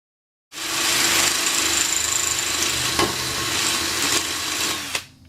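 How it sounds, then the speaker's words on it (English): Masonry drill boring a pilot hole into a cinder block, a steady high-pitched grinding whir running for about four and a half seconds, up close and loud, before stopping abruptly. "We want to drill a pilot hole with a masonry drill"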